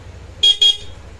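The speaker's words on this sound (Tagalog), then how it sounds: "solid pa rin yung busina" Two short, sharp honks from a stock motorcycle horn, close and loud, with a faint idling engine beneath.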